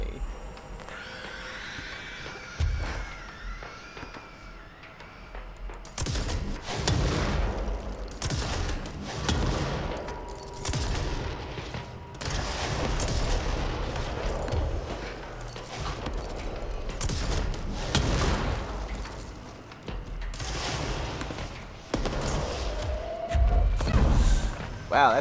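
Gunfire from the video game Control aimed at mold-covered enemies: repeated bursts of shots and heavy thuds over game music, loud at times, with a voice talking over it.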